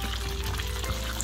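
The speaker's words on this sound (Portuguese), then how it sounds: "estou fritando um peixinho aqui, o almoço" Small freshwater fish such as lambari fry in hot oil for lunch at a rural ranch, giving a steady, dense sizzle and crackle that holds at an even level throughout, with no voices.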